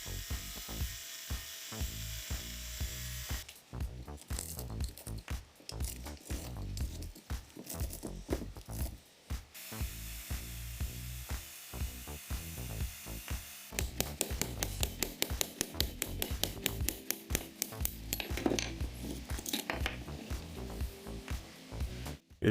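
Burnt-out wire winding is being cut and pulled off a microwave transformer, giving close, irregular bursts of scraping, crunching and tearing with sharp clicks and metallic rattles, denser and more rapid toward the end.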